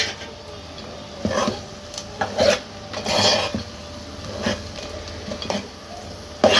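Fried urad dal vadiyalu and fried eggs are stirred in a pan of egg pulusu, giving repeated scraping spoon strokes and soft knocks over a low sizzle, close and alone.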